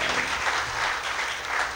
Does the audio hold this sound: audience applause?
yes